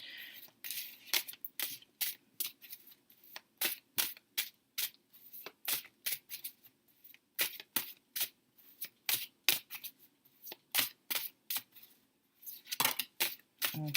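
Tarot cards being shuffled over and over, quick crisp riffling bursts separated by short pauses, close and clear with no voices.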